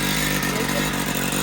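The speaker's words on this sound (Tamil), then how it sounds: "வண்டி ஸ்டார்ட் ஆகிடுச்சு." A motorbike engine running right after starting in a village by a river, a loud, steady, close mechanical drone with a faint clatter.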